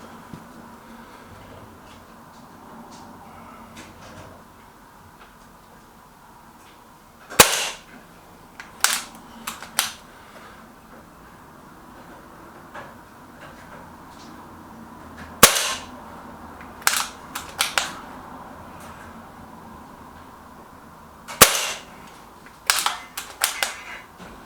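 A Milbro Guardian slingshot fires in three groups of sharp snapping cracks, each a loud release followed by a few quicker smacks. Long quiet gaps with faint background noise separate the groups.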